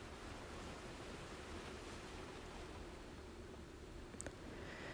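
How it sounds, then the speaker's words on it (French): Steady wash of ocean surf rolling onto a beach, a continuous broad rush with no voices, fairly quiet and even throughout. "Continuez à vous concentrer sur le son des vagues."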